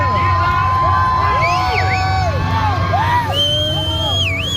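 A large crowd at a monster truck show at Marysville Raceway cheers loudly and continuously, with rising and falling whoops and whistles over a steady low rumble.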